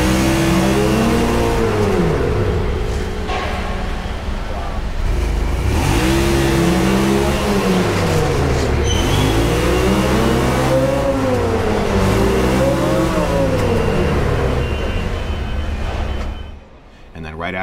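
Engines on new sport quad ATVs rev repeatedly on a factory dyno, rising and falling in sweeping pitch cycles, loud and close, with someone talking over the noise.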